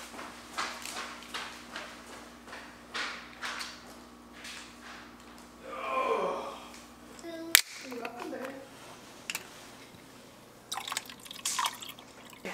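A child urinating into a home toilet, a brief stream of liquid trickling and splashing midway, set among scattered clicks, knocks and household sounds, with a louder clunk just after.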